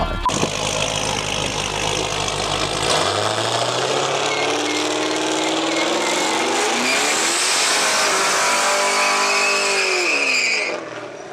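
A loud engine revs hard and steadily, its pitch rising and sweeping, with a rumbling roar that holds for several seconds before easing off at the end.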